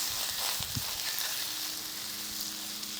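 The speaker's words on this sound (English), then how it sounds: "Sausage is crisping up." Sausage and pork belly sizzle on a Camp Chef Tundra Pro 16 griddle over low heat outdoors, giving a steady close hiss with a few brief low bumps early on.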